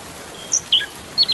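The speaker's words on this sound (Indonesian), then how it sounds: "Burung anis kembang." An anis kembang songbird gives a few short, high, clear chirps in quick succession, bright and fairly close, with brief silent gaps between the notes and no voices.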